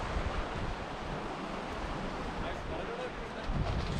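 Sea waves wash steadily onto a small beach at Howth in Ireland, a constant broad surf roar mixed with wind buffeting the microphone, with a voice talking faintly under it.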